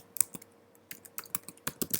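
Someone types on a computer keyboard, irregular close clicks and clacks in short bursts with brief pauses, no talking.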